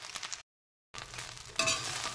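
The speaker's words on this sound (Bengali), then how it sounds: "এইভাবে আমি ভাতগুলিকে ভেজে নেব।" Leftover cooked rice is stirred and fried in a pan, giving soft sizzling and scraping in short bursts around a brief silent gap, with a brighter burst of sizzle toward the end.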